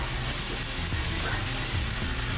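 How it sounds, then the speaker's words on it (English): Onions and garlic sweat in a pan over high heat, a loud, close, constant sizzle with low clattery stirring bumps underneath, no speech. "sweat down for about 45 seconds to a minute, keeping the pan on high heat. Now you don't want to get any color on your onions or garlic"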